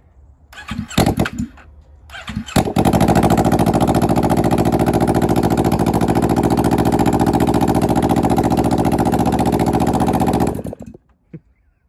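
An accident-damaged motorcycle is started after a few short cranks and bursts, then runs loudly and steadily at a close, even idle for about eight seconds before being shut off.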